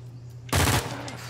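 Gunfire in Uncharted 4, a short rapid burst of automatic shots lasting under a second over low background game ambience.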